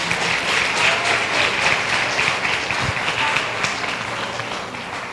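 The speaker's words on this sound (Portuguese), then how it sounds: "Aplauda ao Senhor." Loud, continuous congregational applause during a family church service, a dense wash of many hands clapping that holds steady before easing slightly toward the end.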